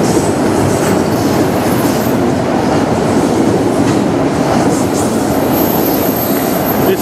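CP and CN freight trains hauling autorack cars roll past a bridge on Denfield Road in London, a loud, continuous rumble and roar of wheels and cars with faint high squealing, steady throughout with no voices.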